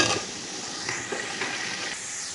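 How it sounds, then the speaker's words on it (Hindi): Sliced onions frying in hot ghee in a cooking pot make a continuous, fairly loud hiss and sizzle that holds steady throughout, heard close with no voices. "तो अब हम इसके अंदर प्याज ऐड कर देंगे और हम प्याज गोल्डन फ्राई होने तक फ्राई कर लेंगे"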